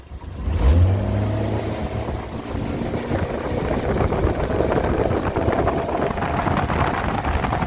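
A Rossini R170 boat with an outboard motor accelerates from rest, the engine note rising and settling into a steady loud drone mixed with wind buffeting and water noise.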